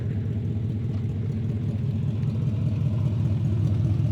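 A 305 V8 engine in an El Camino idles steadily with a throaty low rumble and a rhythmic ticking puff from an exhaust leak underneath, loud and close throughout.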